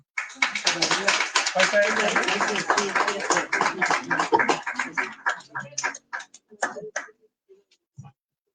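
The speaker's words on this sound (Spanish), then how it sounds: "pido un aplauso para despedir esta mesa, por favor" An audience closing a book presentation panel applauds in a dense, close burst that thins into scattered individual claps and dies away, with a voice briefly heard at the end.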